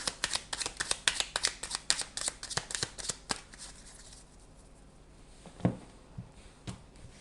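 Tarot cards are shuffled in a rapid run of crisp riffling flicks close up, then the shuffling stops and a few soft card taps and slides follow in a quiet room.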